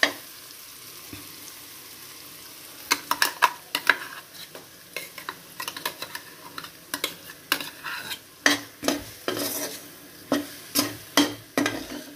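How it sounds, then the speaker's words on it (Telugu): Tempering for ivy gourd chutney sizzles faintly in a pan while a spoon scrapes and stirs it in sharp, irregular clanks from about three seconds on, close and fairly loud. "పోపు మనం పైన కూడా, అంటే పచ్చడి పైన కూడా పోపు వేసుకోవచ్చు."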